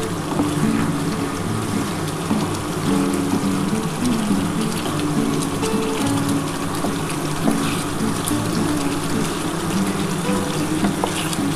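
Egg chilli simmering in a pan, a steady bubbling, watery sizzle that runs close and continuous with no voices over it.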